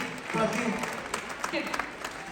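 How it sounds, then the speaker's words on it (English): Audience applause for a children's ballet rolls on as a brief, busy patter, while a voice talks over the clapping. "Guys, you deserve a huge round of applause."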